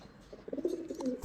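Several caged pigeons coo softly in low, throaty bursts that grow fuller midway through a brief stretch, close by against a quiet background.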